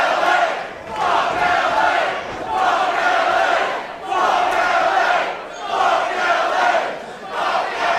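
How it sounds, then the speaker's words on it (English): A West Coast wrestling crowd chanting in loud rhythmic bursts that swell and fade about every second and a half, filling the arena with massed voices. "And the West Coast crowd letting Los Suavecitos know exactly how they feel"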